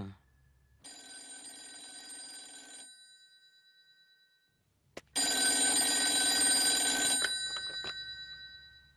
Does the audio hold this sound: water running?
no